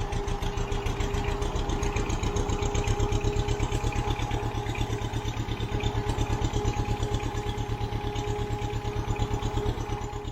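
A Thermo King APU diesel engine fitted with a new AC compressor idles close by, a steady, loud, even clatter of rapid firing pulses running unbroken throughout, with no talk.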